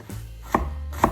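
A knife chops onion finely on a board during preparation of Japanese cabbage rolls, giving three separate, sharp blows spaced about half a second apart, close and clear with no one talking.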